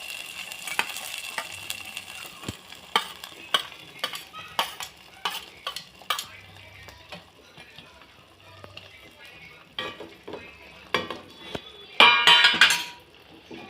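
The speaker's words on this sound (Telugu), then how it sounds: "ఇలా ఉడికి దగ్గర పడ్డాక డ్రై ఫ్రూట్స్ నెయ్యిలో వేయించుకొని వేసుకోవాలండి" Dry fruits fry in ghee in a small pan, a soft sizzle under repeated clinks and scrapes of a spoon stirring against metal, with a louder burst near the end.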